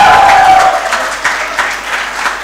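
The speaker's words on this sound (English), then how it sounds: "Please give them a huge round of applause." An audience at a digital media festival claps, a dense burst of applause that thins into scattered, fading claps within a couple of seconds.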